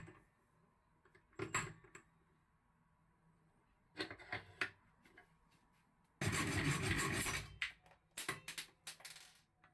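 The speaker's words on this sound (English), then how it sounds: "So I decided to cut off screw heads." M4 screws having their heads cut off, heard as short bursts of rasping, grinding metal cutting separated by quiet pauses, with one longer sustained stretch of cutting, close and without voices.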